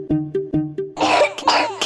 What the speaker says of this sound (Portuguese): a tosse do bebê não passa